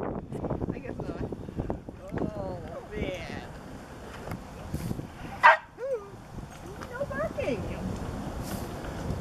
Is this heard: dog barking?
yes